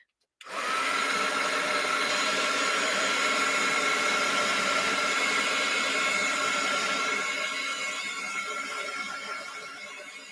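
A hair dryer drying paint in an art studio, switched on abruptly and blowing as a steady loud whooshing whine for about ten seconds before easing slightly at the end, with no talking.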